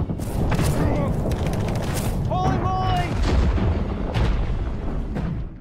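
Artillery barrage in a World War II film about the Hurtgen Forest battle: dense, continuous rumbling booms and gunfire fill the scene at high volume, with brief whistling tones and a voice partly mixed into the din.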